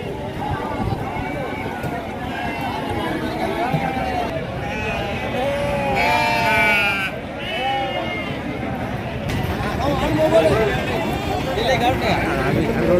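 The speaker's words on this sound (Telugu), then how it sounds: "సంతలోకి నెల్లూరు గొర్రెలు వచ్చినాయి." Nellore sheep bleat repeatedly at a livestock market in Gangadhara, Telangana, their calls rising over a dense crowd babble and people talking nearby throughout.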